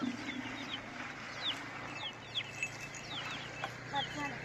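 Chickens and a rooster cluck in short, chirpy bursts over a steady low hum, a few near and most faint, repeating irregularly.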